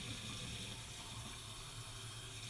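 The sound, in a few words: hot water poured into a glass cup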